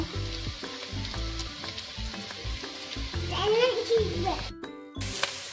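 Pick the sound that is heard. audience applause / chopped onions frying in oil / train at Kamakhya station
chopped onions frying in oil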